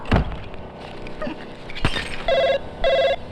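A telephone rings in two short electronic bursts near the end, after a few thuds and a sharp knock earlier in the quiet room.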